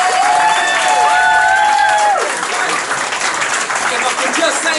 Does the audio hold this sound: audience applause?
yes